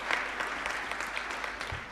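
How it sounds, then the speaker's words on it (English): A symposium audience claps in steady, dense applause, close and even throughout with no voices rising above it. "We can give him another round of applause."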